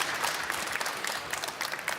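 A conference crowd at the Formnext Industry Stage gives a short, full round of applause, with dense, even clapping close by and no talking.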